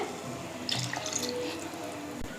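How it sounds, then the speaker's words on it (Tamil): Water and coconut milk poured into a pot of brinji rice made with two tumblers of rice, a soft splashing trickle that swells briefly in the middle and then settles, close and fairly quiet with no talking. "2 டம்ளர் அரிசிக்கு மொத்தம் 4 டம்ளர் தண்ணி சேர்த்திருக்கேன்"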